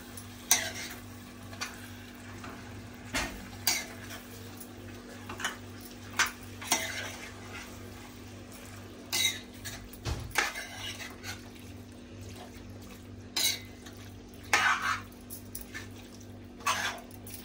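A spoon works through squid rings masala in a pan, giving intermittent scrapes and clinks spaced every second or so. A steady low hum runs underneath, with only faint frying between the strokes.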